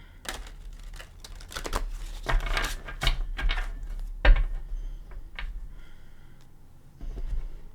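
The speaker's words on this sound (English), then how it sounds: "We're going to now bring in the Tarot of Dreams. Give it one more shuffle." A Tarot of Dreams deck gets one more shuffle, with papery crinkling riffles and quick card slaps that come in uneven bursts over a low steady hum, close and fairly loud.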